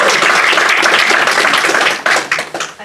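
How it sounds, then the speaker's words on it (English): Audience applause at a children's sport workshop event, a dense burst of clapping that thins into scattered individual claps toward the end. "I think she deserves a massive round of applause"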